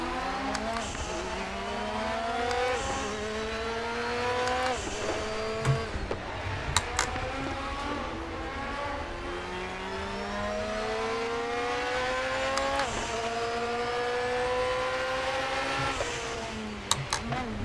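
A race car engine in the Raceroom racing game at Road America screams through repeated rising gear runs, pitch sweeping up and dropping at each shift, with brief tire chirps and a faint voice underneath.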